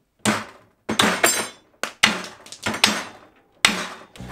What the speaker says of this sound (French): Petit marteau à la propre.